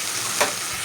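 Small fish frying in a pan on a gas stove gives a steady sizzle, broken by one brief scrape of stirring midway.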